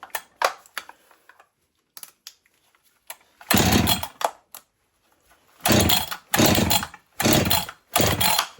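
A Husqvarna 562 XP chainsaw running without its clutch roars in several loud, close bursts of revving, each separated by near-silence, with a few brief blips before the longer revs.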